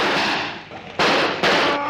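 Two sharp gunshot bursts ring out in a 1956 science-fiction film, loud and close, separated by about half a second, over a noisy background.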